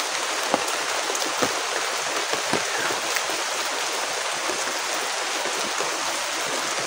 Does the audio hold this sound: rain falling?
yes